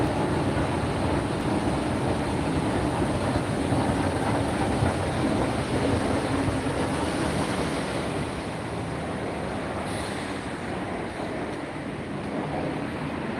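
An elevated MRT train in Singapore rumbles past near Yew Tee station with a steady, broad roar and faint rhythmic clatter, loud and sustained before easing slightly toward the end.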